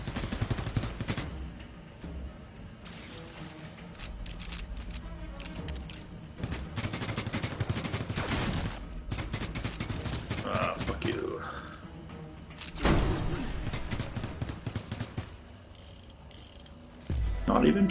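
Automatic turret fire in the sci-fi video game Guardians of Orion, bursts of rapid gunfire coming in uneven waves with clanking mechanical sounds, mixed with a person talking over the action.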